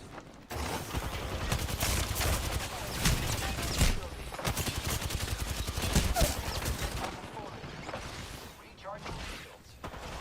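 Gunfire in Apex Legends: dense automatic bursts and clattering weapon mechanisms sound close and loud, running nearly the whole time, with voice lines spoken over the shooting.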